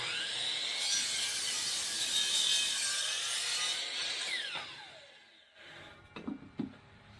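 A Hercules saw cuts through wood, a loud continuous rasping whine for about four seconds that winds down, followed by a few short knocks and handling sounds near the end.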